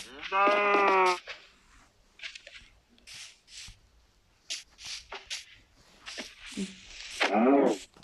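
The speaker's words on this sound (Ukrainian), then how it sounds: "О, корова." A Minecraft cow call in the phone edition, a harmonic bleating moo near the start and a shorter one near the end, with clicks and quiet game sounds between.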